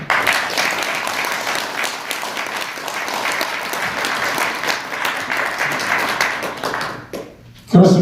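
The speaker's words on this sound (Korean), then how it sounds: "다시 한번 고영주 대표님의 감사, 축하, 응원의 박수를 보내주십니다" Audience applause at a Korean political gathering, loud and sustained dense clapping from a crowd for several seconds before fading out near the end.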